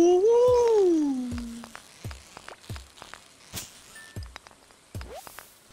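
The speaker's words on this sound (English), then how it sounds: "I love the like weird loon sound when it's raining." A rising and falling wavering loon call sounds at the start during rain in Stardew Valley, then gives way to a series of sharp irregular taps and clicks.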